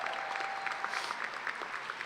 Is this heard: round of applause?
yes